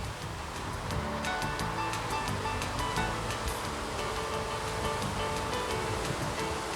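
A 42-foot Bertram boat with turbocharged, intercooled MAN diesel engines and counter-rotating props runs under throttle, a steady loud roar mixed with rushing water and wind noise throughout.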